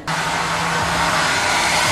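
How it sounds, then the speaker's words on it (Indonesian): A hotel room hair dryer at a hill resort in Puncak, Bogor, switches on and runs with a steady, loud, close whooshing roar. A faint motor hum sits underneath, and no one speaks. "di sini juga ada hair dryer ya"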